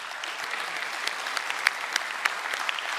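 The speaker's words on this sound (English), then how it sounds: "he deserves a round of applause." Audience at a graduation ceremony applauding, a steady patter of many hands clapping at moderate distance for several seconds, with a few sharper individual claps standing out.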